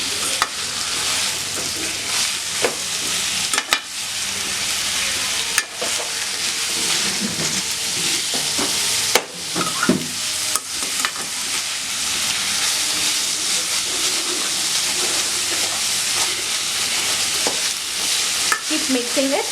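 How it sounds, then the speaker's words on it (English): Mutton keema with onion and methi fries loudly in a pan on medium flame, a dense continuous sizzle with scraping stirs and occasional clanks of the spoon. "Let us mix them well and fry for about 10 to 15 minutes in a medium flame."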